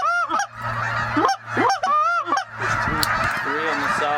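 A flock of geese honking loudly and close during a goose hunt in Ontario, repeated overlapping nasal calls in quick bursts with a faint low hum beneath.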